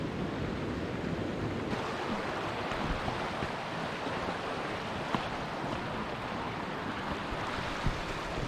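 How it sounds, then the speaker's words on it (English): Rushing water of the River Derwent beside a mountain path near Seathwaite in the Lake District, a steady broadband wash that stays constant and fairly close throughout, with no talking. "The path runs right next to the river."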